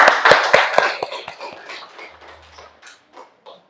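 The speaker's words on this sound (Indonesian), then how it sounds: "Tepuk tangan dulu" A small classroom group claps briefly, with a few sharp, near claps up front that quickly fade into scattered, softer taps and rustling.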